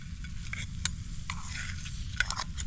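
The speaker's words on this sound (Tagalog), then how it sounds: "Ibalin mga scramble at niluto man" Scrambled eggs stirred and cooking in a pan during a farm breakfast, a soft steady sizzle with light scraping strokes of a utensil.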